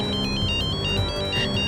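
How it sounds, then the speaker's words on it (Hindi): A mobile phone ringtone plays a steady electronic melody of repeating high beeping tones, loud and close, sounding alone without any voices. "मॉम, एक मिनट, फोन आ रहा"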